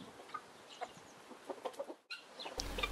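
A hen sitting on a fake egg at a farm gives soft, scattered clucks, a few short near calls over quiet background with no talk.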